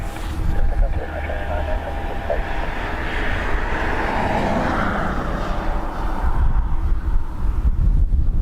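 A Ryanair jet roaring directly overhead at Dublin Airport, a loud broad rumble that sweeps through and stays strong for several seconds, with wind buffeting the microphone.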